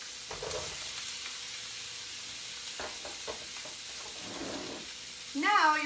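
Tomatoes sizzling in a hot pan with crushed red pepper for a tomato bruschetta, a soft steady frying hiss with a few stirring scrapes, ending with a brief louder sputter.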